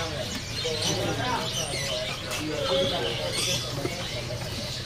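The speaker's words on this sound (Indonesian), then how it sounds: "Di sini ada burung pentet raja ya." A caged pentet raja, a shrike sold at a bird market, gives faint, scattered chirps and calls within a steady wash of background market noise.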